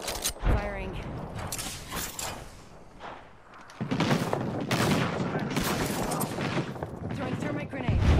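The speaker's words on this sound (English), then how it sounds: "Getting shot at. Firing." Video game firefight gunfire in a tactical shooter, dense bursts of rapid shots and mechanical clatter that turn into a near-continuous loud barrage in the second half, with a voice talking briefly.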